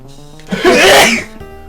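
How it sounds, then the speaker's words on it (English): One sharp, close sneeze bursts out over faint background music from Pokémon Pinball: Ruby and Sapphire, with a short inhale just before it. "Oh, we gotta sneeze."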